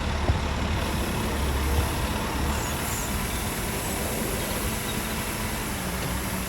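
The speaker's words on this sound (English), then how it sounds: "So this lorry's nearly full, just put the last few tons on." A lorry's diesel engine idles steadily on a farm while wheat is loaded into it, a constant close rumble with no talk.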